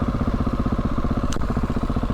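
A Husqvarna 701 Supermoto motorcycle engine runs close by with a rapid, pulsing single-cylinder thump, loud and steady throughout, broken briefly by a sharp click.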